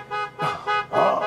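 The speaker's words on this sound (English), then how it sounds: "can you please stop honking your horn?" A car horn honks in four short blasts, each under half a second, loud and close in an even rhythm.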